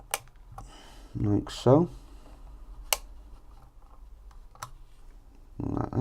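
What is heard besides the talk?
snips trimming coil leads on Asmodus Bunker RDA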